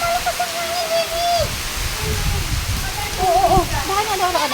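Steady roaring wash of heavy rain and gusting wind fills the whole stretch, with a voice calling out faintly over it.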